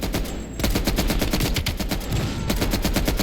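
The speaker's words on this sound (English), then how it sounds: "Heavy MG on the ridge." Heavy machine gun in a video game firing a sustained rapid burst of loud, evenly spaced shots for about three seconds, with a short gap near the start, close and alone with no talk.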